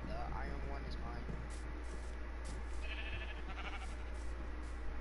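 Sheep bleating in the Minecraft video game, several short blocky bleats scattered over steady game ambience and background music, with people talking throughout.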